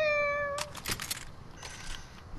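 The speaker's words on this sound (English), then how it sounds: "You hear the cat sound." A cat meows once with a clear, tonal, harmonic call at the start, followed by faint rustling and clicking sounds, heard at close range in a quiet room.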